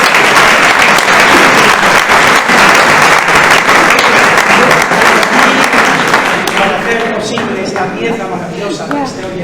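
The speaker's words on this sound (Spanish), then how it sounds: "por favor, nos aplauden" An audience applauds loudly before a choir performance, a thick wash of many hands clapping that thins out and fades during the last few seconds as a voice begins speaking.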